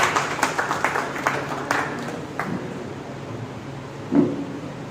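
An audience at a birth-anniversary commemoration honours a guest with clapping: a brisk burst of hand claps fades out after about two seconds, leaving quiet room noise and a faint thump.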